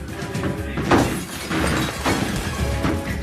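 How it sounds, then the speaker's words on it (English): Glass breaks as a man thrashes while trapped between two doors during a police pursuit: a sharp, loud crash with a burst of shattering, followed by continued rough commotion and no clear speech. "He thrashes frantically, finally breaking the glass."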